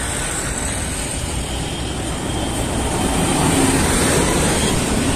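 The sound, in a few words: heavy road traffic near Anand Vihar railway station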